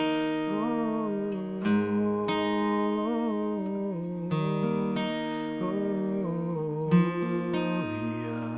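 An acoustic guitar picks a Christmas carol accompaniment, plucking root, third and second strings in a steady arpeggio pattern, close and clear with no talking as chords change every second or so.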